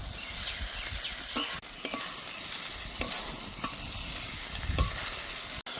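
Potol and prawn masala being sautéed in a pan: steady close frying sizzle with scraping spatula strokes that land every second or so, ending in a sharp clatter.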